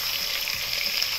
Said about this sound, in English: let it sear for around 30 seconds, and then you move it to the other side